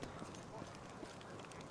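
Horses in the fantasy role-playing game Pathfinder: Wrath of the Righteous, their hooves clip-clopping steadily at moderate volume over a dense ambient game bed, with someone talking over them.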